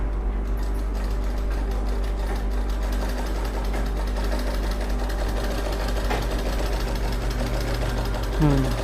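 A sewing machine stitches fabric with a continuous rapid mechanical whirr and low motor drone, running steadily and fairly close throughout.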